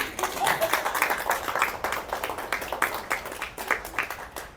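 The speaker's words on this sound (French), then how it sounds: "Vous pouvez m'applaudir, s'il vous plaît?" An audience at a live stand-up comedy show clapping in a steady, moderately loud burst of applause that carries on throughout, with some voices mixed in.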